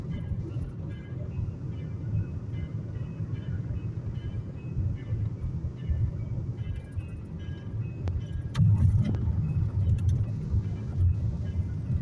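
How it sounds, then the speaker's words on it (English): Steady low rumble of a car engine and road noise from inside a vehicle stopped at an intersection, with a brief louder surge and faint clicks toward the end. "Always a car at the intersection right when I get to an intersection."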